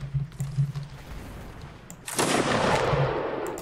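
Musket gunfire in the Napoleonic Wars game Mount and Blade: faint distant shots, then a sudden loud close volley that bursts in and keeps crackling and rumbling to the end.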